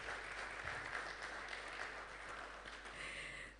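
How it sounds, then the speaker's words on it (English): A round of applause at a launch event for the Nigeria Learning Passport, a faint, distant, even patter of many hands clapping at a steady level throughout. "Please, let's give him a round of applause."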